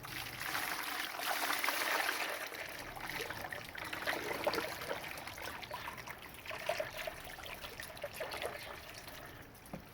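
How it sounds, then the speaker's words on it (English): Water trickles and splashes steadily as a wild clay suspension is poured off from a bucket, a fairly faint, continuous liquid stream with no talking. "let's pour off the first bit of this suspension."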